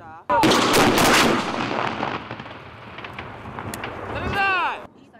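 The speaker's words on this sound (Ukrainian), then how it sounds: "інтенсивно стріляють зі стрілецької зброї" Rapid bursts of small-arms gunfire crack and echo outdoors in a war zone, loud and sustained at first, then tapering into scattered shots before a final cluster.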